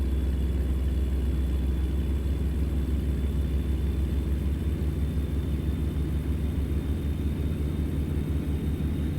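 A heavy-haul truck engine roars at full throttle in American Truck Simulator, a steady, loud low rumble with a faint high whine, droning continuously with no voices.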